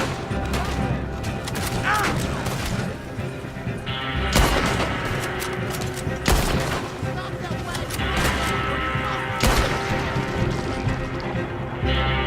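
Gunfire in the Red Dead Redemption 2 story mode: several sharp, loud shots ring out over a dense, busy game soundscape with hoofbeats and scattered voices, the shots spaced a few seconds apart.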